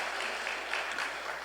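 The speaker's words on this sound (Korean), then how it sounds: "자리에서 한번 일어서실 때 박수로 우리 한번 환영해 주시기 바랍니다." Church congregation applauding during a Sunday worship service, a steady, even wash of clapping from many hands in a large sanctuary, moderately distant and sustained throughout with no talk over it.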